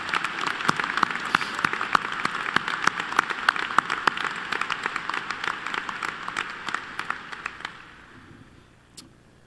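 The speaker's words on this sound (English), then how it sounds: "Please join me in a round of applause for these dedicated teachers and support staff." A graduation audience claps for teachers and support staff in a school hall, with sharp individual claps layered into a moderate round that thins and dies out near the end, leaving a few last scattered claps.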